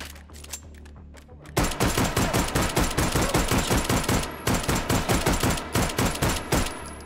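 Gunfire in the H3VR virtual reality shooter, a few scattered shots followed by a sustained rapid automatic burst of evenly spaced loud bangs.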